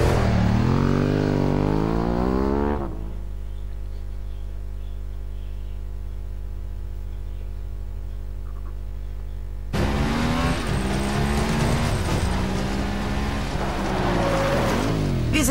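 A vehicle engine drones steadily in Just Cause 2. The tone is smooth and loud, with a shift partway through from a rising, revving sound to a flat, constant hum and then back to a higher-pitched, busier engine tone.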